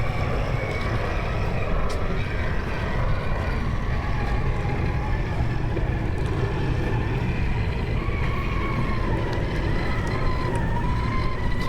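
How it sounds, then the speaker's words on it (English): An RC crawler drives on a beach, its steady motor whine running continuously under a broad rush of surf and wind, with no gaps or pauses. "You drive all the way to the beach, you gotta drive it"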